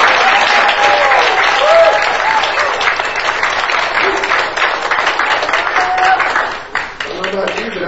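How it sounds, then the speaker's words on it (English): Congregation clapping in praise at a church service, a dense sustained wash of hands with cheering voices and shouts scattered through it, steady and loud throughout. "We'll give him a hand clap of praise."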